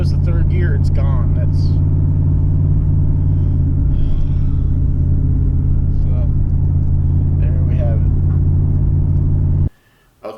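A third-generation Chevrolet Camaro with a failing transmission drives along, its engine a steady low rumble with droning harmonic tones that holds loud throughout, then cuts out abruptly just before the end.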